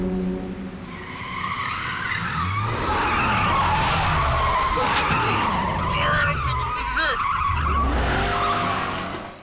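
A stunt car with its brakes disabled slides and skids through a long, loud tire squeal, the engine roaring beneath it and rising again near the end of the run.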